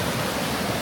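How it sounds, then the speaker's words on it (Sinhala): Running water at a forest campsite in Wellington National Park, Australia, a brief, steady broadband rush like a stream or small waterfall, fairly loud and continuous with no voices. "වතුර සද්දේ එහෙම එනවා හොඳට"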